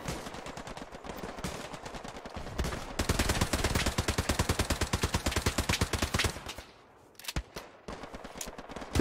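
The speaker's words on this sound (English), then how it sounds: "We're getting shot at, my guy!" Rapid automatic gunfire in the World War II shooter game Hell Let Loose, a dense stream of loud close bursts, pausing briefly before a few final shots.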